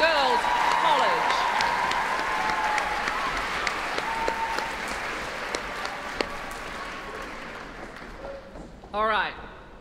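Sustained applause from a concert audience after a girls' college choir performance at a gala concert, a broad even wash of clapping that slowly thins and fades, with a brief voice near the end.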